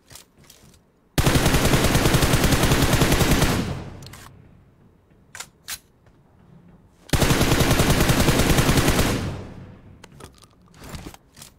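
Two long, loud bursts of automatic gunfire in a battle royale video game, each rattling for a couple of seconds with a quieter pause and a few sharp isolated shots between them.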